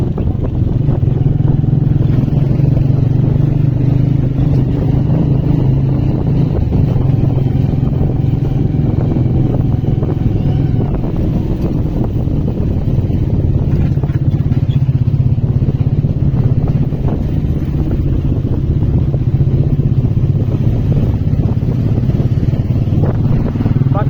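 A motorcycle engine hums steadily up close while riding through narrow lanes, with a constant low drone and some rattling, and faint talk in the background.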